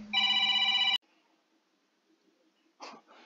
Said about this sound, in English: Guys, I got a phone call.